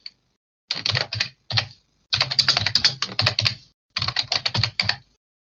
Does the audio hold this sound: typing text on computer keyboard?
yes